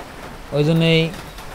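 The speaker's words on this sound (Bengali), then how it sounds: "এখন তো ওই যে বাইরে দেখছি বৃষ্টি" Rain falls outside as a soft, steady background hiss, briefly interrupted by a short, loud tonal call, likely from a young animal, before the even patter continues alone.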